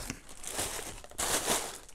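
Plastic bag crinkling and rustling as it is handled during the unboxing of an RGB stand for a PlayStation 4, close and continuous in two dense bursts.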